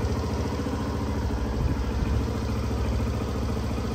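A Suzuki Burgman Street 125 scooter engine idles steadily up close, a smooth, even low putter with no other sounds.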